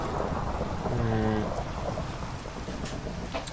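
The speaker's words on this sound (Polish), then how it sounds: "A właśnie nam tutaj piorun walnął." Thunder strikes in Minecraft as a long, rumbling crash over steady rain, with a brief tonal murmur partway through.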